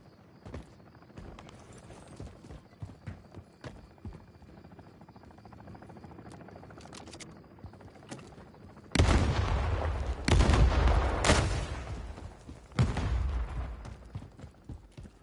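An attack helicopter in Modern Warfare 3 thumps in the background amid scattered impacts, then loud bursts of gunfire and blasts erupt near the end.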